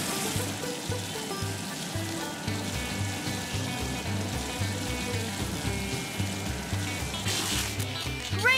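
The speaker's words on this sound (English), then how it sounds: "Marshall can use his water cannons to hover." Steady hissing spray from a water cannon in a Paw Patrol video game runs throughout over a pulsing, looping game music beat, loud and continuous.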